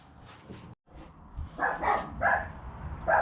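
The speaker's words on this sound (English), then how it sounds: "Just stood barking on the back garden." Dogs barking in a back garden, a few short barks and yips at moderate distance, with outdoor background noise between them.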